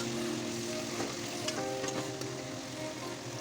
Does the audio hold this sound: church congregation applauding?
no